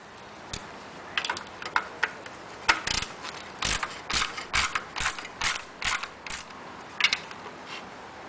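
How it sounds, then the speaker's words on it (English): Hex key working the brake-light screws on a Ducati Monster 696 rear fender, a series of crisp, close ratcheting clicks and small metallic taps in irregular bursts, with no talking. "The screws for the brake light take a 6-point hex key."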